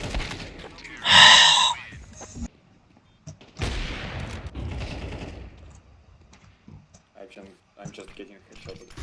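Gunfire in Counter-Strike 2: one loud, dense burst of rapid shots near the start, followed by quieter in-game clatter and scattered sounds while a player talks over it.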